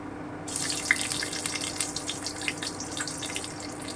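Garlic and black cumin seeds frying in oil for a bottle gourd leaf dish, a close, even hiss that sets in abruptly and holds steady with light crackles throughout.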